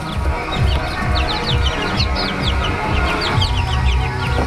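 Several growing chickens in a cage cluck and chirp together in a busy, continuous chorus, close by, with no one speaking.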